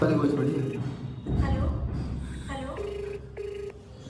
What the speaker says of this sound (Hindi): ये कौन क्यों फोन ना उठा रहा?